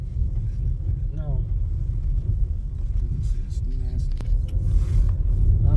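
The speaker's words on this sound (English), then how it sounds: "Come on and take a ride with us in all this snow that we got going on" A car drives along a snow-covered road, giving a steady low engine and tire rumble with some wind noise throughout, while a person talks over it.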